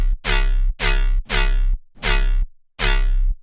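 Synthesized tone through a frequency shifter with multipliers: five loud, sustained horn-like blasts of roughly half a second each, separated by short gaps, with a bright, phasing, metallic timbre.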